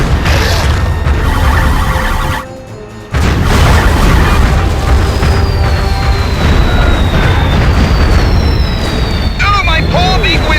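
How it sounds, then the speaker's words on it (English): A missile barrage in Destroy All Humans sets off loud, dense booming explosions and mechanical rumble, broken by a brief near-silent gap and then continuing with whistling streaks, with game voices speaking over it. "A missile barrage!"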